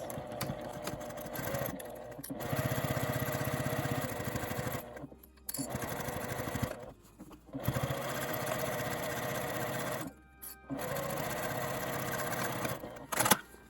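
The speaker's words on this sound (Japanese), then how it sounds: "このように端を留めて1センチの縫い代で縫います。" A sewing machine stitches fabric along a 1 cm seam allowance while a card case is made, running in steady buzzing bursts separated by short pauses, close and fairly loud with no talk.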